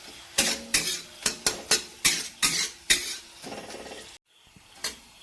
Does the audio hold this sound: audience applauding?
no